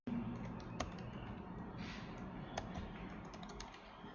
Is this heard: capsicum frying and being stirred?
no